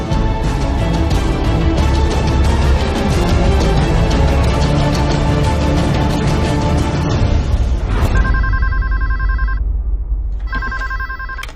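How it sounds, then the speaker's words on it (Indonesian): A telephone bell rings loud and close over a busy office-like background, then continues alone in two distinct ring bursts with a short gap between them. "ada telepon"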